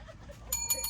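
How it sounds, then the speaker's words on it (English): A small bell is dinged twice in a craft tent, two bright ringing strikes about a fifth of a second apart, fairly close and clear over a quiet background. "Ding the bell!"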